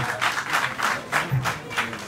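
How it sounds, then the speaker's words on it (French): Audience at a conference in the Kayes Chamber of Commerce hall applauding, a short burst of rhythmic, fairly loud clapping in unison. "La jeunesse, s'il vous plaît, sous vos applaudissements."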